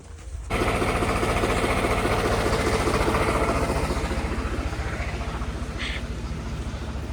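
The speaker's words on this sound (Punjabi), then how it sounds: "ਲੋ ਵੀ ਬਾਪੂ ਜਾਂਦਾ ਟਰੈਕਟਰ ਲੈ ਕੇ" A tractor engine starts up loud and close after a brief quiet, then rumbles steadily as it drives off to work a paddy field, its drone fading slightly toward the end.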